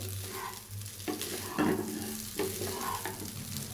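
Chicken fried rice sizzles steadily in a hot pan while a spatula stirs and scrapes through it, with occasional louder clatters over a continuous frying hiss.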